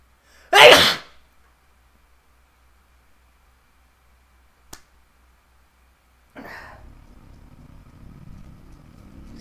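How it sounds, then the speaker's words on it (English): A single loud, close sneeze bursts out near the start, followed by a long quiet stretch with a tiny click, then a low steady running hum rising at the end. "I feel a sneeze."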